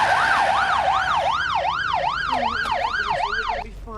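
An ambulance siren wails loud and close, in a steady, rapid rise-and-fall rhythm that holds for about four seconds, with a faint voice behind it near the end.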